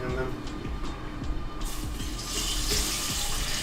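Water pours steadily into a sink as canned plantains are drained, a continuous close splashing rush that grows louder and fuller partway through, with a voice talking over it.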